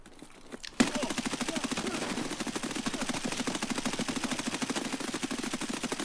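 Rapid automatic gunfire in Escape from Tarkov bursts in suddenly after a brief quiet moment and continues as a steady, loud, rhythmic stream of shots to the end.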